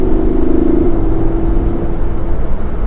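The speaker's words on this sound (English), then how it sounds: "the reason I know that the gear is shifting is because I can hear it from the engine sound" A 2017 Lamborghini Huracan Spyder engine hums steadily and revs briefly, with a tone shift partway through as it moves between gears, heard from inside the car.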